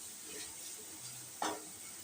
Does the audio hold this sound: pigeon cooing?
no